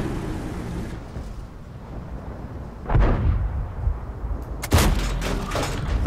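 Heavy tank cannon shots in a tank battle game, two loud booming blasts a couple of seconds apart over low rumbling engine noise.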